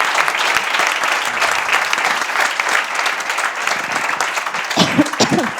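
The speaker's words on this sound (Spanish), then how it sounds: "Pido un fuerte aplauso para ellos." An audience at a DEKRA road safety report presentation in Madrid applauds, with dense, loud clapping from many people filling the room and a brief voice emerging near the end.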